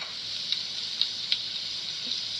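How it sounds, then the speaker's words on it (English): Pork chops sizzle in a frying pan with a steady hiss, close and even, broken by a few sharp spits and pops; no one speaks. "so they're in the pan. They're sizzling."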